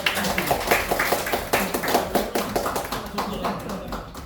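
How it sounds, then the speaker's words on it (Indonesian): Uneven clapping from an audience at a school event at SMAN 78 Jakarta, distinct hand claps in a loose rhythm with a voice heard over them. "Beri tepuk tangan yang mulia."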